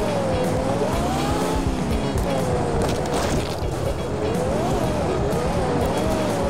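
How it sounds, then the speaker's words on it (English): A car in the physics-based crash game Turbo Dismount revs with a steady wavering engine whine, joined by tire squeals, skidding and scattered knocks of impact, with a voice talking over it. "That car is just getting wrecked."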